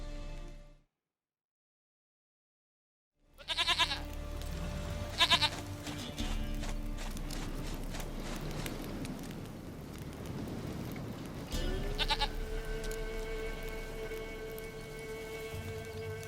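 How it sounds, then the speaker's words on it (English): Goat bleating in The Witcher 3: Wild Hunt, a few short cries standing out over a steady wash of rain-like ambient game noise after a brief silence. "Goat of mine, dearest, sweetest goat."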